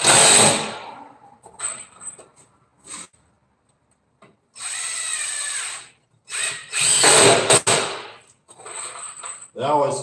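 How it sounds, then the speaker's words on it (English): Power drill countersinking screws into wood while building a coffin, heard close up as several short whining bursts of varying length separated by quiet pauses. "I always countersink mine in just a little bit."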